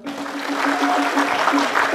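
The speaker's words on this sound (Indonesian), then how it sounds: "Sampun, tepuk tangan dumun." An audience at a Balinese quiz show semi-final breaks into applause, a steady patter of many hands clapping fairly close, building slightly and continuing throughout.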